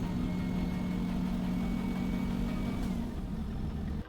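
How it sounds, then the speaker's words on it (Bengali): A Sara Express coach drones steadily on a night highway from Noakhali toward Dhaka, its engine giving a deep, constant hum with a sustained low tone throughout, heard from inside the cabin with no talking. "সোনাইমুড়ি কাউন্টার থেকে যাত্রী তুলে কিন্তু আমার ভ্রমণকারী বাসটি কিন্তু খুব এগ্রেসিভলি জার্নি শুরু করে ঢাকার উদ্দেশ্যে"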